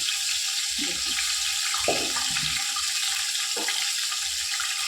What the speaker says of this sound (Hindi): इसमें अच्छी तरह से मसाले को साफ़ करके पानी से इसके अंदर डाल देंगे